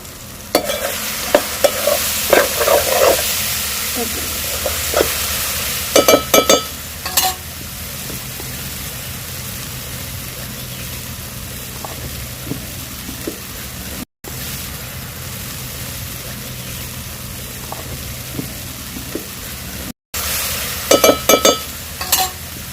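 Drumstick curry fries and sizzles in a pan, with steady frying hiss throughout and bursts of stirring scrapes near the start, around the middle and at the end.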